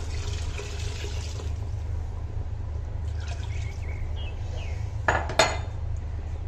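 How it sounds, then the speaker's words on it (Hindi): Water splashing into a pot while cooking shalgham chicken, a steady rushing pour under a low hum, followed near the end by a couple of brief metallic clinks and knocks from the pot. "4 कप इसमें मैंने पानी डाल दिए।"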